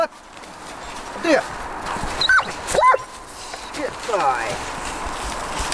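A rescue dog barks a few times at close range, sharp yips and whimpering barks spaced across the moment, over a low outdoor background.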